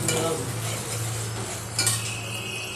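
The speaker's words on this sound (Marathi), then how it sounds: "त्याला तेल सुटोपर्यंत परतून घेऊया।" Masala for egg curry being stirred and fried in oil in a pan, with a steady close sizzle and soft scraping of a spoon against the pan, plus a brief clink of metal near the end.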